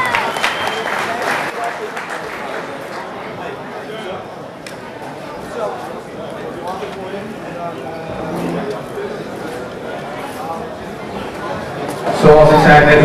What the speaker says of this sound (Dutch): Geef beide vechters een daverend applaus voor een mooi gevecht.